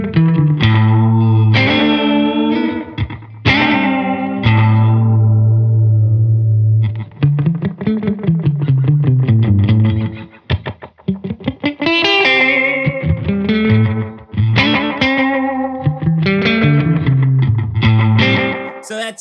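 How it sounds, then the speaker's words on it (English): A Hologram Chroma Console effects pedal in reels mode adds a short slapback echo to a musical phrase that plays continuously and loudly, with repeated notes and no talking over it. "So that's, you know, that gives you that EP3 slapback echo."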